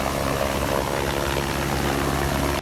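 Firefighting helicopters and aircraft work over a wildfire on a mountainside, making a loud, continuous rotor and engine roar that fills the whole stretch before cutting off abruptly at the very end.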